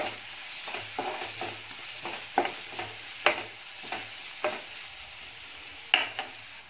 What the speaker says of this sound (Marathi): हा जो कांदा आहे, जो आपण पांढरा कांदा घेतलेला तो कापलेला आहे मधून, शिल्लक राहिलेला भाग आहे तो पण ह्याच्यामध्ये फोडणीला घालून घ्यायचा आहे